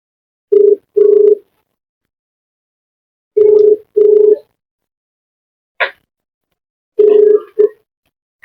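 A telephone ringback tone purrs in paired bursts, repeating at a steady rhythm with pauses between, clear and close, with a short chirp near the end.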